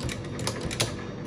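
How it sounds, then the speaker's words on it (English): Quick, irregular keystrokes clack close up on a Mercedes number 5 manual typewriter used for guest invoices, with a few sharper strikes standing out. "The invoices for our guests on a Mercedes number 5 typewriter."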